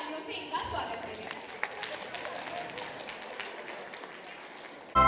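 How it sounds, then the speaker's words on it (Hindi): Applause welcomes a performer at a Diwali cultural programme, a moderate spread of crowd clapping lasting several seconds, fairly even, with faint chatter mixed in and a sudden loud burst at the very end. "जोरदार तालियों से इनका स्वागत करें"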